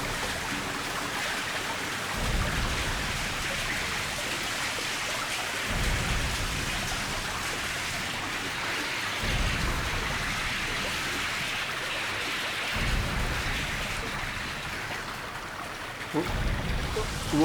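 Water inside a tunnel gives a steady, dense wash of rushing, splashing noise that fills the space evenly, with low thumps recurring every few seconds beneath it and no clear speech.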